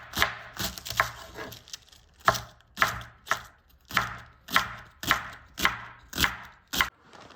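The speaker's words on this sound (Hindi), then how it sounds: "ये अब बंद गोभी है, इसको भी हम ऐसे काट के रख देंगे फ्रीजर।" A knife chopping cabbage on a cutting board in a steady rhythm of about a dozen crisp, close strikes, with no talking.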